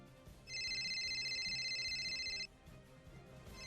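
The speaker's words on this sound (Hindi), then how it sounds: "तभी मेरे फोन पर गुप्ता जी की कॉल आई।" A phone rings with an incoming call: an electronic ringtone plays steadily for about two seconds and then cuts off, over low background rumble.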